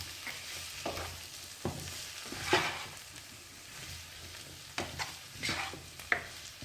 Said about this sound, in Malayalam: ഇനി നമുക്കിത് നന്നായിട്ടൊന്ന് മിക്സ് ചെയ്ത് കൊടുക്കാം.